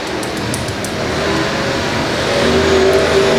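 A race car at L A Raceway on a Friday night main event roars close by, its engine note climbing and growing louder as it accelerates.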